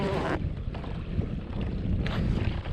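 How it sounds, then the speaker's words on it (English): Strong wind gusting over a lake while fishing from a boat, a loud continuous rumbling roar buffeting the microphone, with no talk. "Man, wind's getting pretty gnarly."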